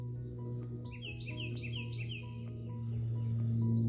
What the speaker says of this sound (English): You hear the birds singing? Listen.